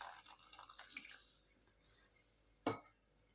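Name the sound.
small amount of water poured into flour batter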